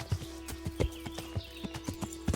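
Horse hooves clip-clop in a video game, about a dozen crisp, evenly spaced hoofbeats at a brisk trotting rhythm, moderately loud over a steady low tonal hum, without speech.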